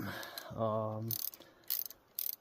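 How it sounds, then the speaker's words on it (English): A slotted bolt threaded into a deer feeder winch crank to clean the threads, giving a short clicking, ratcheting grind followed by a few scattered metallic ticks, close and faint. "that just helps kind of clean out the threads as you run a bolt in"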